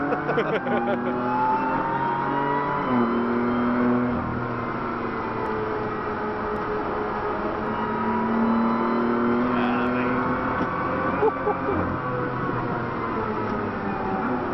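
BMW M3 four-seater lapping the Nürburgring, heard from inside the car: a steady loud engine drone with shifting tones as revs rise and fall, continuous and close throughout.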